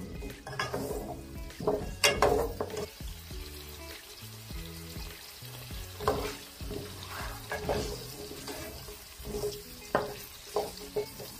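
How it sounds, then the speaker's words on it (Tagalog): Food frying in olive oil in a pan while being stirred, with steady sizzling broken by repeated scraping and clattering strokes of a utensil against the pan, close and moderately loud, no talking. "Nilagay ko na siya kahit hindi pa mainit yung oil kasi para hindi masunog yung olive oil natin"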